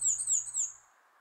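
Small birds such as warblers sing in a warm June forest: three quick bright chirping phrases close together, fairly faint, then the calls trail off into quiet.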